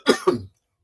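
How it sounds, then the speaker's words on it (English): A single short cough in two quick bursts, close and fairly loud, then silence. "it's a cough"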